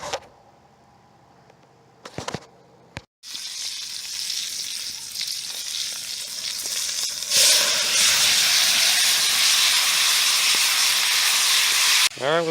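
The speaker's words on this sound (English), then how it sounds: "we got our Hassenpfeffer frying" Marinated rabbit for hassenpfeffer frying in a hot pan, a loud continuous sizzle and hiss that swells and grows brighter partway through, preceded by a few brief clunks and handling noises.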